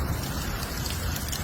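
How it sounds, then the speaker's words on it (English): Springtime hailstorm in Michigan with hail falling hard and continuously, giving a dense, close patter like heavy rain over a wide noisy wash, with no talking. "This is the biggest hailstorm I've ever been in my life."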